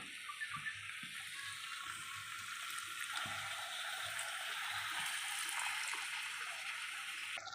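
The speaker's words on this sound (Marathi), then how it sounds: "फक्त एक कप पाणी टाकणार आहे" A cup of water pours steadily into a pan with a continuous splashing rush, close by, preceded by a few light knocks.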